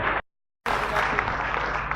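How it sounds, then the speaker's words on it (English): Audience clapping after a public lecture, dense steady applause that drops out briefly and then resumes at full strength. "Give applause to Dr. Sehat Sutardja and Professor Chan Basarudin."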